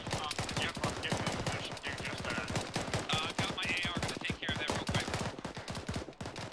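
AR rifle shots in a military simulation video game come as a dense, rapid crackle of sharp reports throughout, fairly faint, with muffled radio-style voices partly overlapping.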